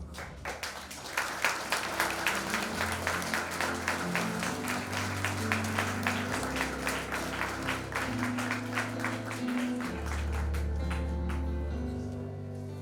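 Congregation at an anniversary Mass for the CLJC group in Canapé-Vert applauds as the CLJC Junior members stand, a steady, fairly distant patter of many hands with sustained tones running underneath throughout.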